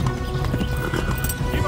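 Horse hooves gallop in a fast, steady clip-clop in Kingdom Come: Deliverance, close and continuous across the whole moment, with voices talking over the hoofbeats.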